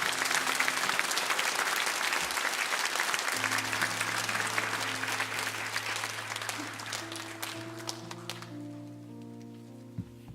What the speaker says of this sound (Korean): 우리 이재은 자매 나올 때 큰 박수로 좀 맞아주시기 바랍니다.